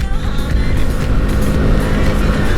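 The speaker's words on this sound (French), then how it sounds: "Petit moteur de 11 chevaux." A Motron Revolver 125 mini-cruiser motorcycle with a small 11-horsepower engine, heard riding: a loud, steady engine drone with wind rush, close and continuous throughout.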